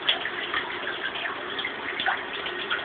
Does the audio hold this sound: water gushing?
yes